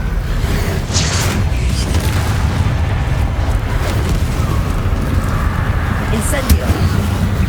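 Spell blasts from Incendio and Bombarda in the game Hogwarts Legacy, heard as a steady loud roar of fire and blast noise with a few sharper bursts, and a player's voice speaking over it.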